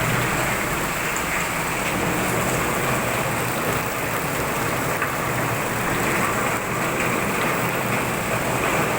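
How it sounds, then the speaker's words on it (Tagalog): Heavy rain pours steadily outside, a dense, loud, unbroken hiss of drops drumming on surfaces with no pauses and no voices. "Napakalakas ng ulan"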